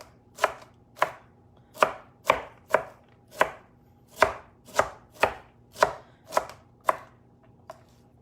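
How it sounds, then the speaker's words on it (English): A knife chops red cabbage into smaller pieces on a board, about a dozen crisp, evenly spaced strokes with a short pause midway, close and clear with no talking. "now I'm just gonna chop this up"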